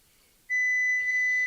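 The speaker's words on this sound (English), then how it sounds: "Okay, so stop beeping now. No more beeps." A steady electronic beep from a voice control app on an Android phone rings out for about a second, a clear, loud tone with a faint higher harmonic, briefly dipping and stuttering near its end.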